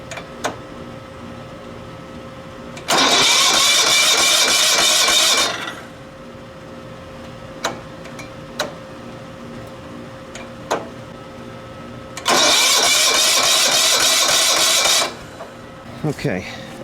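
A John Deere RX95 riding mower's starter cranks in two loud bursts of about three seconds each, separated by quiet stretches with scattered clicks and taps.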